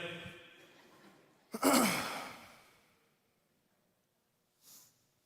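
A single sneeze bursts out at a graduation baccalaureate ceremony, a sharp loud onset decaying into a breathy hiss, preceded by faint murmuring and followed by a brief soft breath.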